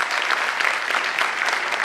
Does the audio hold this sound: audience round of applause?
yes